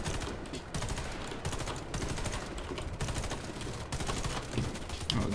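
Artillery fire in the Icebreaker video game gives dense, continuous rumbling bursts of booms and cracks that go on for the whole stretch, loud and unbroken.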